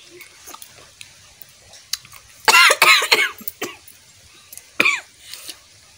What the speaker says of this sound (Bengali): জম্মের কাশি মাথার তালেই উঠে গেছিল।